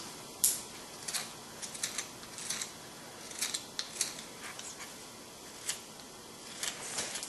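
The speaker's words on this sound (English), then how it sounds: "got a real short pencil here. I'll try to sharpen just to show some detail work here" A sharp chisel shaves a short wooden pencil in a series of quick, crisp scraping cuts, irregularly spaced and close, with quiet pauses between strokes.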